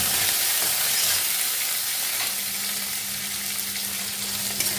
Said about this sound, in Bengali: এই তেলের মধ্যে দিয়ে দেবো এই যে রসুন কুচিগুলো রসুন কুচিটা লাল লাল করে ভাজতে হবে